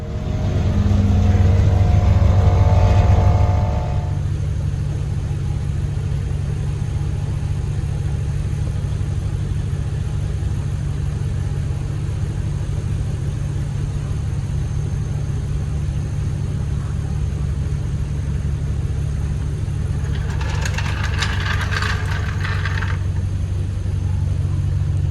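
A 1969 Chevrolet C10 pickup idles steadily with a low, even mid-range engine drone, close and constant throughout, after a brief louder rev at the start and a short clattering burst near the end.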